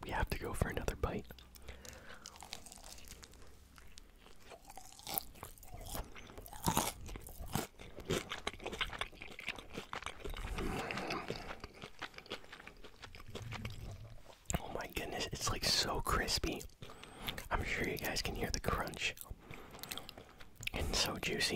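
Crunchy KFC fried chicken is bitten and chewed close to the mic in repeated crisp crunches, with soft whispering mixed in throughout.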